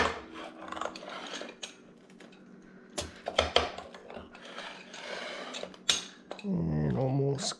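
A knife saws through a crusty loaf of bread made from seven-day-old dough, with a few close, dry scraping and crackling strokes, soft rustles, and a louder crunch near the end.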